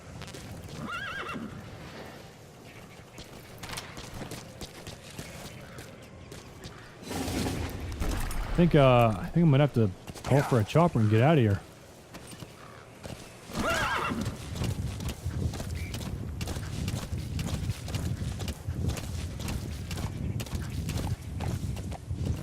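D-Horse, the in-game horse in Metal Gear Solid V, whinnies loudly in a burst of layered neighs midway, with hoof clip-clop and game ambience around it while someone talks over the scene.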